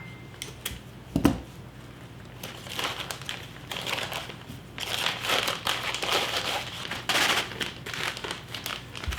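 Plastic bag crinkling and rustling as preserved garden herbs are handled and the bag is closed up, steady close crackly rustle running throughout with a sharper crunch near the start, no talking.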